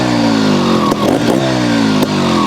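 A TRS One RR 250 trials motorcycle engine runs steadily and loud, with pitch slowly rising and a few short revs blipping over the continuous drone, no talk over it.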